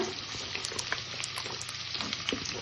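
Carrot hitting hot tempering in a pan, a busy continuous sizzle and crackle of frying with scattered pops and stirring scrapes, fairly close and steady, no voices.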